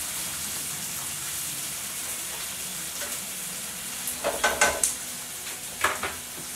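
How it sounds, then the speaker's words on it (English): Vegetables sautéing in a pan ahead of adding pork for fajitas, a steady low sizzle that swells into a short burst of louder stirring and pan clatter near the end. "Going to saute these for a little bit"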